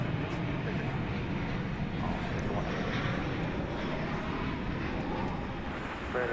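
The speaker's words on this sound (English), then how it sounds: "American Flight 2270 from Atlanta, 737-800" At night at DFW Airport, an American Airlines Boeing 737-800 arriving from Atlanta gives off a low, steady jet rumble that stays moderately quiet and even throughout.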